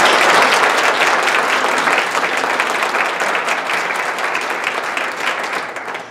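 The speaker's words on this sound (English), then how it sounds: "Let's give a round of applause to these guys." Audience at an employer breakfast applauds in a full, dense burst that slowly tapers off over several seconds.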